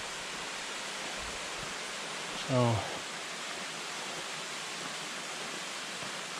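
Waterfall and stream flowing nearby along the Pacific Crest Trail, a broad, steady hiss of rushing water filling the whole stretch, with one short spoken word partway through.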